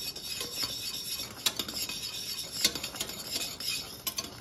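Salted caramel made from a cream and butter mixture is stirred in a pot, a continuous scraping and swishing with louder strokes now and then. The sound is close and moderately loud, with no voices.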